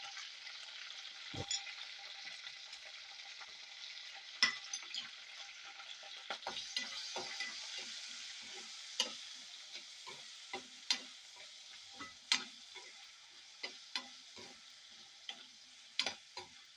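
Green chilies frying in a pan with cumin, salt, turmeric and coriander seeds give a steady crackling sizzle, broken by many sharp spatula scrapes and taps spread through the clip, with no talking.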